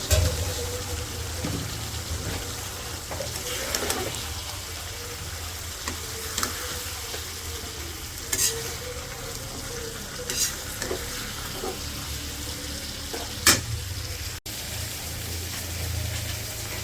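Tomatoes fry with flat beans and potatoes in a pan on a village stove, a steady close sizzle broken by repeated scraping stirs of a spoon against the pan.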